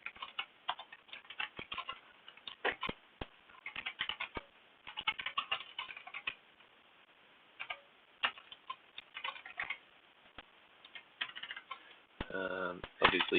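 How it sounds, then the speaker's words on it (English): A computer keyboard is typed on in quick, close bursts of light clicks separated by short pauses, ending in a denser flurry of keystrokes. "Obviously, you can type whatever you want."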